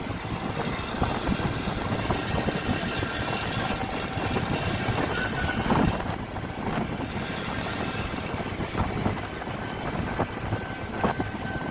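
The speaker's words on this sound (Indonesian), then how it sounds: "Wah, ada kereta teman-teman." A train rolls past a motorbike rider travelling slowly on a Honda Vario 125, its rumble close and steady with heavy wind buffeting throughout, easing slightly partway through.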